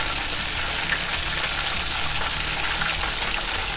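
Burger buns toast in organic butter on a hot griddle, giving a steady, close sizzle and crackle that holds evenly throughout with no talking.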